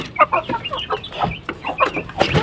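Hens in a rural pen cluck and murmur in quick overlapping bursts, close by and fairly loud, with no talking.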